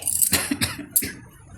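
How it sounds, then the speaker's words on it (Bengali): A few short, sharp coughs in quick succession, close by, with no talking. "শুনেই কাশি পেয়ে গেল বিশ্বাস কর"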